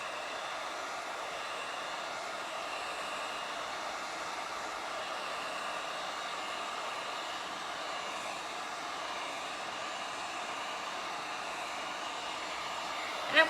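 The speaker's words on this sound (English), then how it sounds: "use a heat gun to kind of blow it around." A heat gun blows hot air over resin in a geode coaster craft, a steady, fairly loud whooshing hiss that holds unchanged throughout with no speech.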